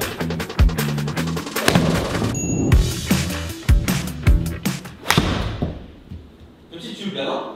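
Golf club striking balls during a club fitting session testing a new shaft, a series of sharp thwacks under speech and background chatter.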